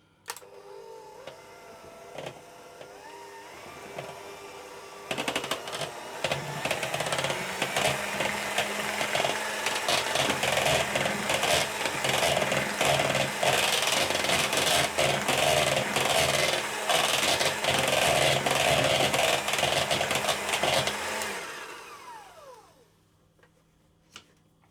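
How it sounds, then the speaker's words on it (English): An electric hand mixer whisks icing to stiff peaks for a lemon sandwich cake, a steady loud whirring drone that starts abruptly, holds for about fifteen seconds and winds down at the end, with no talking. "And I'm going to whisk that until it's stiff peaks."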